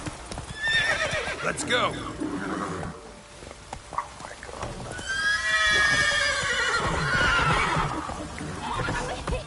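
A horse in The Witcher video game whinnies loudly and snorts over clip-clopping hooves, with a brief spoken line in between and game sounds underneath.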